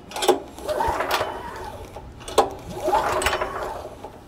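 A DK2 stump grinder's small gas engine is pulled over by its recoil starter with the key off, giving two separate rasping, whirring pulls with sharp clicks, close and fairly loud, with no one talking.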